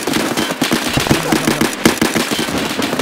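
Gunfire rattles in a shooting video game set around a resort, rapid bursts of sharp cracks and pops that are loud and close, repeating in quick clusters across the moment.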